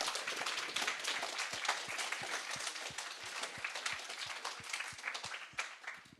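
An audience applauds a speaker with steady, dense clapping throughout, a few sharper individual claps standing out, moderately loud and without speech.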